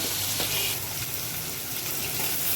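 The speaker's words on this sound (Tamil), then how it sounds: "இப்போ கொஞ்சம் தக்காளி சேர்த்துக்கலாம். ரெண்டும் நல்லா வதங்கி நல்லா ப்ரௌன் கலராக வரட்டும்." Onions and tomatoes sauté in a pan for fish kuzhambu, making a steady, fairly loud sizzle with a faint stir near the start, and no voices.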